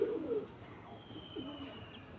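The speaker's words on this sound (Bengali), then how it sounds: "এ দুটো হচ্ছে মেন ধাড়ি পায়রা" Two soft, low coos from adult breeding pigeons, brief and a little apart, against a quiet background.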